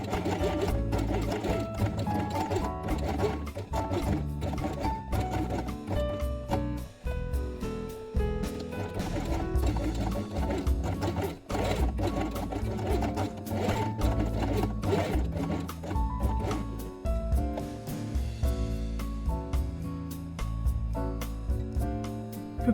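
A sewing machine stitches a felt quiet book element with white thread, a dense rapid clatter that runs almost continuously with a few brief dips. It is close and moderately loud, with no voices.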